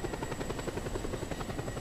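A helicopter rotor in the video game Just Cause 2 thumps in a steady, rapid rhythm, faint and unbroken with no talk.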